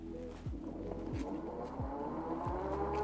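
Magicycle Cruiser Pro fat-tire eBike pulls away from a standstill on throttle alone, with no pedaling. A steady electric motor whine rises gently under road and tire hum, marked by a few regular low thumps.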